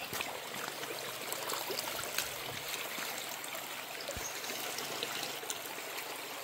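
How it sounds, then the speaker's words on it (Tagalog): A calm stream flowing near a rural livestock area, a continuous close trickle and burble of water with a steady, even level throughout and no voices. "Makikita nyo nga dito ang ating sapa kahit paano kalmado."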